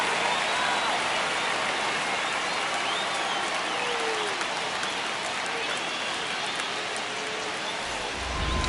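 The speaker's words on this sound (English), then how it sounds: "The crowd is amped up, ready to get this season underway" Steady crowd roar fills a baseball stadium in MLB The Show 25, a dense, continuous wash of cheering and applause held at an even level throughout, with no clear voices standing out.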